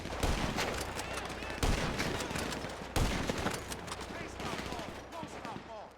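Gunfire rattles in Grand Theft Auto 5, loud bursts of rapid shots with sharp onsets recurring every second or so amid dense battle noise, with voices talking underneath.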